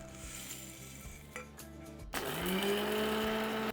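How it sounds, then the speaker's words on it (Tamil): A mixer grinder jar spins up to grind roasted masala, a low electric motor hum building into a loud, steady whirring whine after a brief pause. "இதை நம்ம மிக்சி ஜாருக்கு மாற்றிட்டு எவ்வளோ நைஸாக அரைக்க முடியுமோ அரைச்சி எடுத்துக்கலாம்"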